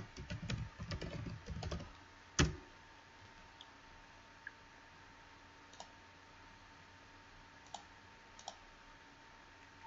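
Fingers tap out a payment code on a computer keyboard in a quick close burst of keystrokes, followed by one sharp click and a few scattered single taps in a quiet room.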